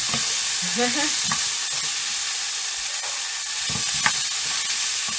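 Chicken, peppers and pea pods sizzle hard in a hot stir-fry pan, a loud continuous hiss with occasional clinks and scrapes of a utensil, close up and without talk.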